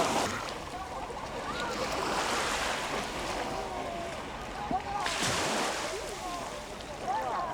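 Gentle, shallow sea waves wash steadily onto a calm beach at Geoje, a continuous soft broadband surf with faint wind, with occasional swells rising and falling and no clear speech.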